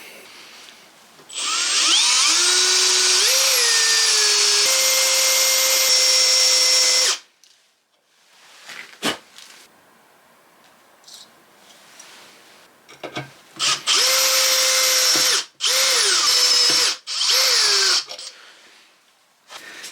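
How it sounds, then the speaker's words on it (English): A power drill bores a hole into a Suzuki GN250 motorcycle frame, whining loudly for several seconds, pausing, then running again in a few short, loud bursts with quiet clicks and handling noise between them. "I'm gonna drill one hole into the frame there"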